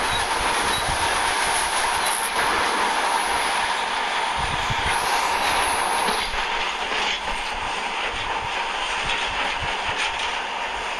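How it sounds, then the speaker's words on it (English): A monorail train in the video game Metro Last Light Redux runs steadily, with a loud, continuous rolling rumble, rhythmic wheel clatter and a high metallic squeal that swells midway. "In the past, trains were ordinary things, but now, this monorail seems magic, doesn't it?"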